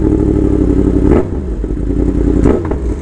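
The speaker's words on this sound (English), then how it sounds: "Let's get a sound check on the CP4 from Yamaha." A Yamaha CP4 crossplane engine revs in loud, close bursts, its rough, uneven exhaust note rising and falling twice with no talk over it.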